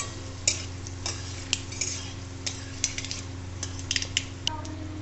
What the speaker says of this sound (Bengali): দেখুন সর্ষেগুলো ফাটতে শুরু করে দিয়েছে।